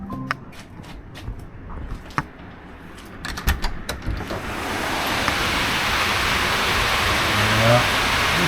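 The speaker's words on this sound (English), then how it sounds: "it's still raining pretty good rate." Steady heavy rain at a cabin during a tornado warning builds into a dense, loud hiss, with a few sharp taps and knocks early on before the downpour takes over.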